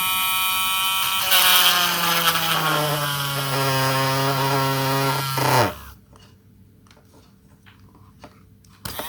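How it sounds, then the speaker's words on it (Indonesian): An electric drill whines loudly and steadily while boring a hole, its pitch sliding down for several seconds before cutting off abruptly, followed by quiet handling noises. "kita bor"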